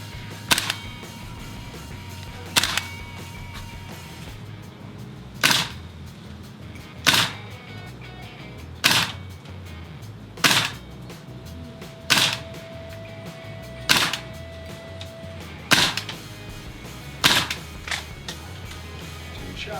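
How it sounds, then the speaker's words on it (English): An airsoft gas blowback rifle fires about a dozen single shots, each a sharp, snappy crack spaced roughly two seconds apart over a quiet background, with no talking. "try the system with a gas blowback rifle"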